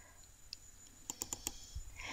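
Faint mouse clicks at a computer while working in an Excel userform, a quick cluster of four light, sharp ticks in a quiet room.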